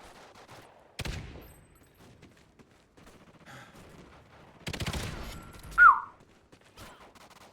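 Automatic rifle fire from the Call of Duty Ghosts video game rattles out in several loud, sharp bursts separated by quieter gaps, with one standing out more strongly near the end.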